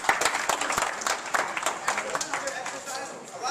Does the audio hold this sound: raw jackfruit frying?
no